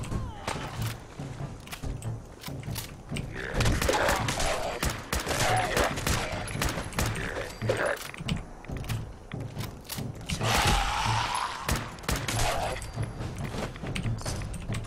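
Rapid bursts of automatic gunfire in Fallout 4, fired from a weapon with a horizontal muzzle vent, crackle loud and close in dense volleys through most of the stretch, with heavy thumps mixed in.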